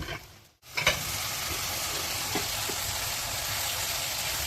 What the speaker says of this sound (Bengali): এখন আমি একটু নেড়েচেড়ে দেখলাম আমার মশলাটা কষানো হয়ে গেলে